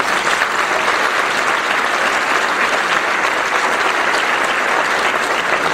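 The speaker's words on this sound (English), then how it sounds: "they deserve your round of applause" Audience applause at the Service Nation Summit, following a New York City mayoral speech about Department of Education staff: loud, dense, steady clapping from a large crowd, sustained throughout without a break.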